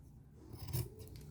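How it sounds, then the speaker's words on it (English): Scissors snip and rasp briefly through fabric at a bookbinding workbench, a short soft cutting sound with no talking. "So what I'm going to do is get out my scissors"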